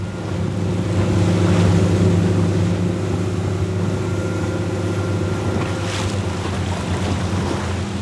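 A boat engine drones steadily over rushing water and wind buffeting the microphone, loud and continuous throughout.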